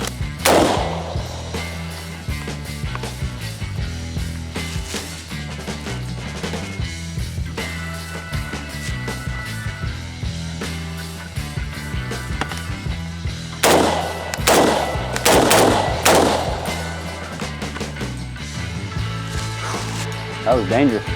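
A SOCOM 16 rifle fires outdoors as a dense string of sharp, loud shots that runs through the whole stretch, growing heavier toward the end, with voices talking underneath.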